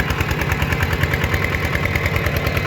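A small walking tractor's engine runs in a rice field, a loud, close, steady rapid putter with an even rhythmic chug throughout and no voices.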